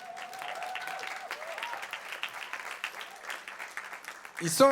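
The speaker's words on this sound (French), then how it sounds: "On peut les applaudir encore." An audience applauds steadily in a hall, with dense, sustained clapping heard close. A voice speaks over part of the applause, and a brief louder sound comes at the very end.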